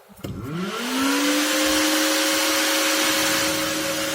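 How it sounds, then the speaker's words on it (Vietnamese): Cooling fan inside an old battery charger spinning up and running at high speed, a loud steady whir with a rising tonal hum that settles into a constant drone with no one talking. "Tiếng quạt máy chạy rất mạnh nhé các bạn."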